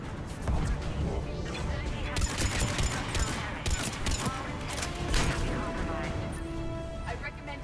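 Automated turrets fire in the game Mass Effect 3 in dense, sustained bursts of rapid shots mixed with impacts and mechanical clatter, loud and close throughout.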